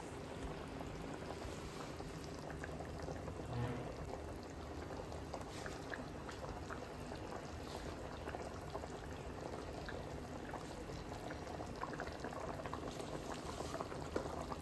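Fish curry with okra bubbles steadily in its gravy, a dense, continuous simmering hiss and popping that holds at a soft, even level with no voices.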